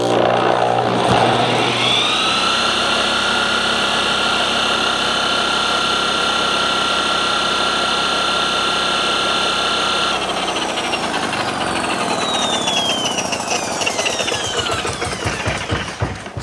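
A home-made bowling ball spinner contraption runs continuously with a loud, steady motorized whine and hum, shifting in pitch partway through and growing rougher and more rattly toward the end.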